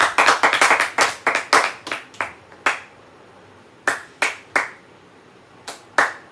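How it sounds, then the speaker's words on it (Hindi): Scattered audience clapping greets a minister called onto a stage, starting as a quick burst of sharp claps, thinning into separate loud slaps, a pause, then a few more isolated claps near and dry. "एक बार जोर से ताली हो जाए।"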